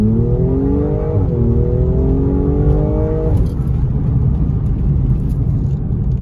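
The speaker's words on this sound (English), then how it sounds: "press the gas pedal a couple times, then release the brake while you're still flooring the gas" An automatic car's engine revs loudly with the gas floored against the brake, climbing in pitch, then launches as the brake is released into a heavy, steady rumble close by.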